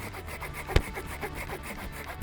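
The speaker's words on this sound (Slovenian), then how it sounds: "preprosto tukaj lahko odžagamo celotno vejo, zato uporabimo sadjarsko žagico" A small pruning saw cuts through a young fruit tree branch in steady rhythmic back-and-forth strokes, close and clear, with one sharp knock partway through.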